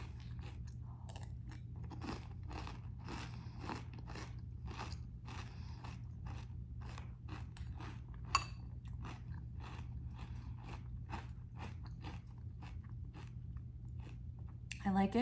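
Crunchy, sweetened protein cereal chewed close to the mouth, a fast, regular run of crisp bites and grinding crunches over a low steady hum, continuing throughout.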